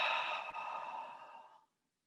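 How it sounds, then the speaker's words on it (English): A slow, soft exhale through the mouth or nose during yoga breathing, heard close and breathy for about a second and a half before fading into silence. "Breathe out."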